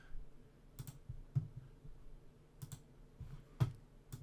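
Quiet typing on a computer keyboard, a handful of soft, close clicks arriving in small irregular clusters with faint gaps between them.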